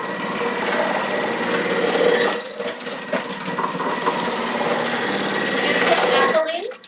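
A Thermomix food processor thick-grates two washed, unpeeled carrots, giving a loud, continuous whirring grind with rattling chunks that stops abruptly near the end.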